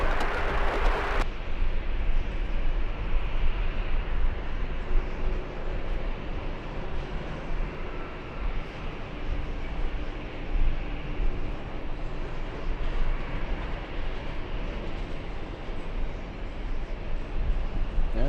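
An aircraft landing on runway 22 left at JFK airport, a steady loud broadband rumble of jet engines and airflow that holds throughout with little change.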